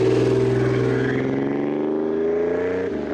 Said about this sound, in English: as I jump in it, you can hear the growl of the two-stroke